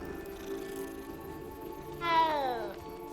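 A cat meows once in Hogwarts Legacy, a short rising-then-falling cry standing out briefly over a steady game ambience, with speech faintly present around it.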